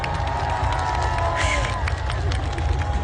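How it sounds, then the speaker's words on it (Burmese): A large crowd at the Taunggyi fire balloon festival cheers and claps in a dense, continuous roar, with shouts rising above a steady wash of applause. "လက်ခုပ်ကလေးများပေးကြပါဦးခင်ဗျာ"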